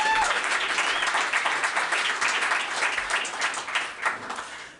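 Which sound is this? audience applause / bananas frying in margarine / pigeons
audience applause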